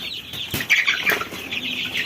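Chickens flap their wings in a brief flurry, with a few soft clucks mixed in, close by.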